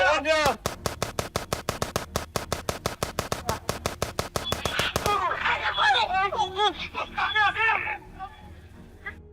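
Rapid, loud gunfire in a police shootout, with a long burst of evenly spaced shots, then shouting voices once the firing stops.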